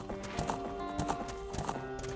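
Epona, the horse in Zelda: Ocarina of Time at Lon Lon Ranch, clops along in a steady repeating hoofbeat pattern with a whinny, game sound effects heard clearly over a faint background tone.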